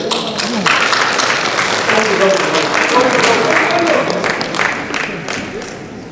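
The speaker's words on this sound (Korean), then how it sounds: "박수 한번 주세요." A church congregation applauds in a sustained, dense burst of clapping that swells and then tapers off over about six seconds, with a voice speaking over it.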